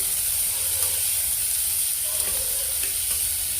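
Onion, added after cumin seeds, sizzles in hot oil in a pan. The hiss is steady and continuous at close range, with faint stirring scrapes and no talk.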